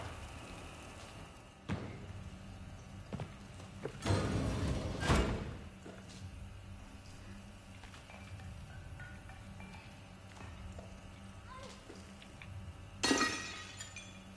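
Glass smashing in the Little Nightmares 3 video game: a loud, dense crash of breaking glass with clinking shards around four to five seconds, a second shattering burst near thirteen seconds, and faint game ambience between.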